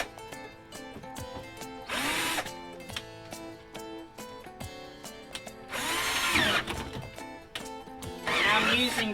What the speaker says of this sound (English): So I have my drill here, just my 12-volt drill that I use for pretty much everything at home.